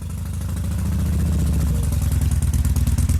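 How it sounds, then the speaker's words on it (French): A Harley-Davidson Sportster 1200 motorcycle engine rumbles steadily up close, a deep throbbing idle that grows slightly louder and more pulsing toward the end. "Le son du Sportster 1200, c'est quand même quelque chose"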